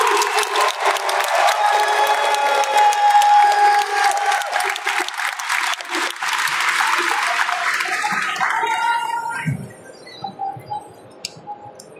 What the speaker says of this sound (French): un tonnerre d'applaudissements pour Nessim et Laurent